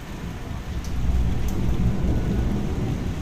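Strong stormy wind with thunder and heavy rain at Jalsiri, a dense roar of rain and gusts swelling louder midway, with a couple of sharp crackles over the steady downpour.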